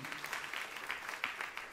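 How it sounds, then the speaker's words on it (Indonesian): A church congregation gives lively applause to the Lord, a fairly faint, distant wash of clapping with a few sharper claps standing out. "Tepuk tangan yang meriah untuk kamu Tuhan."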